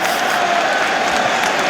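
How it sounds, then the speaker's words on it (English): Cricket crowd at an England v India test match, a broad steady wash of applause and cheering that holds at an even level throughout with no lull. "Now that's got the crowd going."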